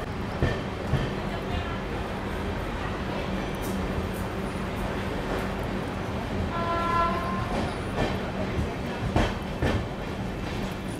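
The Kashi Mahakal Express pulls out of Ujjain Junction, a close, steady rumble of carriages with rhythmic clicks and a short horn toot, while a voice talks over the train noise.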